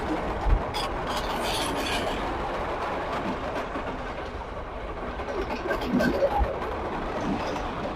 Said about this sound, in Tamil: பாருங்க, அங்க ட்ரெயின் வந்து கொண்டிருக்கு.